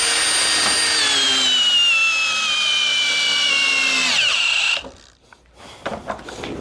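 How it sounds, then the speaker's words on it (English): A Milwaukee 2904 cordless hammer drill on a 6 amp-hour Forge battery, in low-speed drill mode, drives a 5/8 by 8 inch lag screw with a loud, steady whine whose pitch slowly drops under load before it cuts off abruptly. "2904 fully charged 6 amp hour forged battery can do in low speed drill mode to this 5/8 by 8 inch lag"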